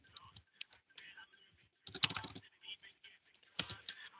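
Names are typed on a computer keyboard during a livestream: bursts of quick clicking keystrokes, close and fairly quiet, separated by short pauses, with faint murmuring voices in the background.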